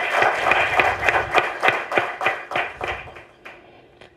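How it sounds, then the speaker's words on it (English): Scattered audience applause at the Manfrotto DCP Annual Awards Night, a run of loud, fairly sparse hand claps at an uneven rhythm that thins out toward the end. "I think that deserves an applause."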